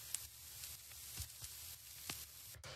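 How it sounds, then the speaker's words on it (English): Vinyl record noise sample for a jazzy house track: steady hiss and sizzle with scattered soft clicks and pops, played alone at low level. "the last element that we have in here is just this vinyl noise"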